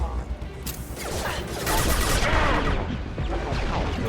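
Heavy video game gunfire in a Mass Effect 2 battle, a dense chaotic barrage of shots and impacts building in intensity, with a player talking over it.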